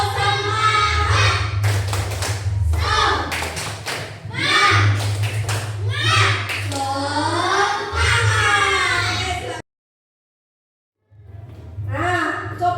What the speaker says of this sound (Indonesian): Bisa tepuk semangat, nggih? Hitungan ketiga mulai ya.